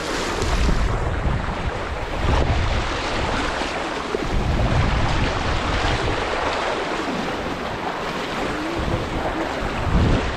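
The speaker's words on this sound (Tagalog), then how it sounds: "Ayun yung falls, oh." A waterfall at a campsite in Maragondon, Philippines gives off a loud, steady rushing roar, with wind buffeting the microphone now and then. No one talks.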